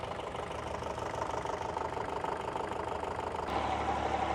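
A Super Dexter tractor engine runs steadily while ploughing, a continuous mid-low drone that grows slightly louder and heavier near the end.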